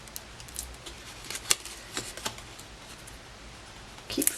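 Paper being folded round and pressed down into a small hexagonal lidded gift box, giving quiet crinkles and soft taps with a couple of sharper crisp presses, close and alone.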